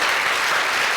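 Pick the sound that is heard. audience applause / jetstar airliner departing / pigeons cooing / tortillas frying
audience applause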